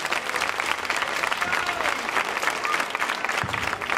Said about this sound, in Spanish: un aplauso por favor para Rubén Marchán